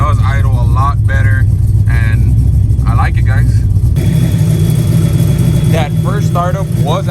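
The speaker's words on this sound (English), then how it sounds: "It does idle a lot better" A Ford Fox-body car engine with an MSD ignition box idles steadily with a low, even rumble, heard close throughout while someone talks over it.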